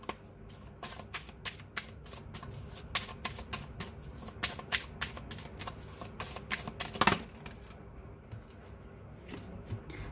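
Tarot cards shuffled and drawn close by, a steady run of soft riffling flicks and slaps with a louder burst near the middle, then quieter handling.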